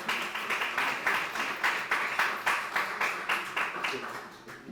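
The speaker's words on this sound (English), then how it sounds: "please give him a round of applause" A civic event audience claps in a rhythmic, unison pattern of about a dozen evenly spaced beats, fairly faint and somewhat distant.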